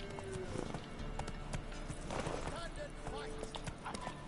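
Horse hooves clip-clop across ground in The Witcher 3: Wild Hunt, steady and fairly close, mixed with game ambience, while a man gives the horse spoken commands.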